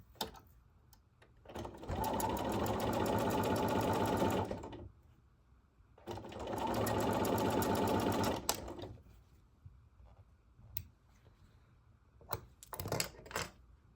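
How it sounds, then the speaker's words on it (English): Sewing machine stitching quilt block pieces runs in two steady bursts of rapid, even needle rhythm, each about three seconds long, with quieter handling clicks and rustles between and after them. "so I'm just gonna have to sew this guy anyway, so might as well sew him now."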